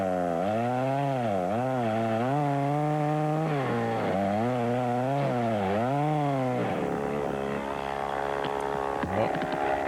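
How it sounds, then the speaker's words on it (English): A close, loud chainsaw revs and bogs repeatedly while cutting wood, then settles into a lower grinding idle near the end. "There's that chainsaw I was hoping for in the last video."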